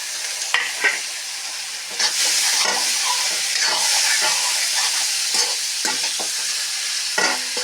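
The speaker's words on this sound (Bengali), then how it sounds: "এইভাবে কিছুক্ষণ ভাজা করে নেব।" Taro stems with green chilli fry in spiced oil in a pan, a steady sizzle broken by scraping stirs, close and fairly loud with no talking.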